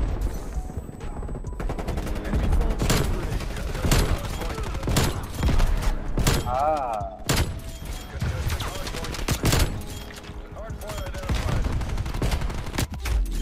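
Gunfire rings out in Black Ops Cold War during a sniper wall bang, with sharp, loud shots scattered irregularly through a busy game mix and a voice talking briefly in the background.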